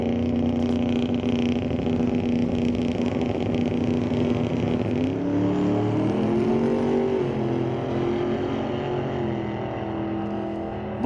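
A black Chevrolet S10 and a black Mustang launching at a Mission Raceway Park drag race, loud engines revving and pulling away, pitch climbing then settling as they recede.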